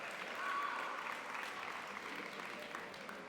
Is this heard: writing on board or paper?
no